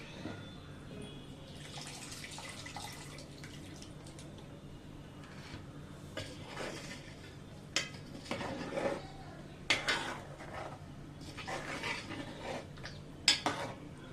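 A spoon scrapes and clinks against a pot while fish curry is stirred, with intermittent sharp metallic taps and soft wet stirring over a low background hum, fairly quiet and close.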